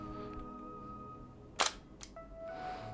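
A 1955 Praktina FX 35 mm SLR fires its shutter with a sharp, close double mechanical clack, followed a moment later by a smaller click, set against quiet room hum.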